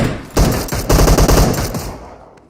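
Automatic gunfire from the PUBG Mobile video game rattles out in several rapid bursts, loud and close, then fades off with no talking over it.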